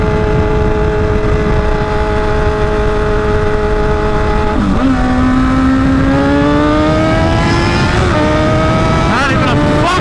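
Straight-piped car with no exhaust revving hard and loud, engine pitch sweeping up and down through repeated climbs, close and continuous with a voice talking over it.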